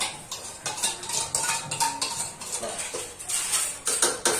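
Curd is stirred into chicken biryani with a metal spoon in a pot, producing a steady run of close clinking and scraping strokes in an uneven rhythm, with no talking.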